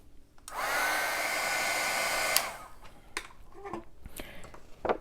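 A heat embossing tool blows a loud, steady hot-air whoosh for about two seconds as it melts embossing powder on paper, then cuts off, followed by scattered small clicks and handling sounds.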